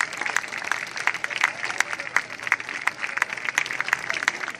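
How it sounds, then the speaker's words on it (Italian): Audience applause for a majorette troupe at a San Pier Niceto pilgrimage event: a dense, steady patter of many hands clapping at close range, sustained without pause. "facciamogli un altro calorosissimo applauso"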